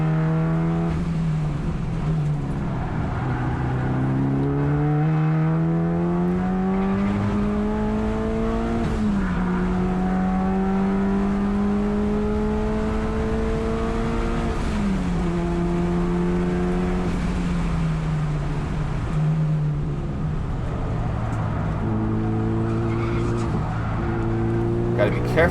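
A Mitsubishi Evolution's engine revs hard around the Thunder Hill East track, rising through the gears in repeated climbing sweeps with brief drops at shifts, loud and close from inside the car, while a person talks over it.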